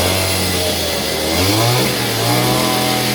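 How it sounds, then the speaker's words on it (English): A small gas engine swapped into a Goped stand-up scooter runs on a raised stand, buzzing loudly and close, then climbing in pitch in a short rev before holding a higher, steady drone. "I'm trying to get this idle correct."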